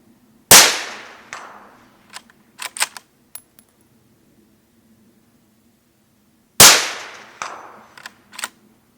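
A Franchi Horizon Elite Varmint rifle in .223 is fired with a muzzle brake and no moderator. Two loud, sharp shots come about six seconds apart, and each is followed by a few crisp metallic clicks.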